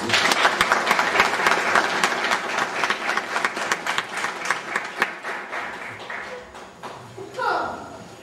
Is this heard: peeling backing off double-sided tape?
no